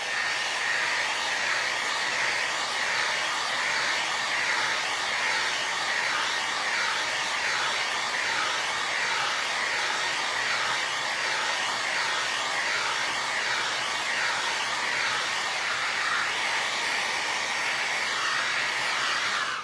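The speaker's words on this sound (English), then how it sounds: "I'll go ahead and hit it with the heat gun" A heat gun blows hard and steadily on a vinyl record being turned into a snowman tissue-paper holiday decoration, a continuous loud hiss for the whole stretch without any talk.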